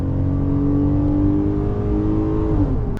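A 2025 Ram 1500 pickup truck engine revving hard and holding around 6,000 RPM, a loud sustained roar close by, easing off and cutting at the end.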